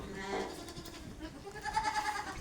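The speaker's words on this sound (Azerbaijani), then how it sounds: "keçiləri də, çəpişləri də buraxdıq yanlarına" Goats and young kids bleat together while mothers and kids are turned out to suckle on a drizzly spring day, several overlapping calls close by with some voices nearby.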